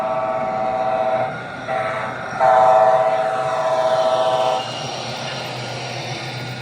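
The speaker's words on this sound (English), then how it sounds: "Nice authentic raised letter K5LA horn on them." HO scale model Amtrak Siemens SC44 Charger locomotive at a model railroad open house sounding its K5LA horn in several steady multi-tone blasts, loud and close over a running background hum.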